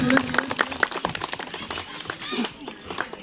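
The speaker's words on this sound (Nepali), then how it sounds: "ताली मारिदिनु सबैजनाले।" An audience at a Magar community picnic claps in welcome, a brief patter of hands under a speaker's voice on the microphone.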